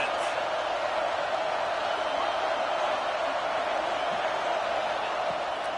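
A college football stadium crowd gives off a steady, loud roar that holds without break, a dense wash of many voices filling the whole stretch.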